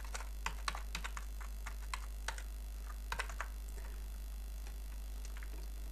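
Keys clatter in quick, irregular bursts as someone types on a computer keyboard, filling in contact details on an online e-stamp paper form; close and fairly quiet with short pauses between clusters.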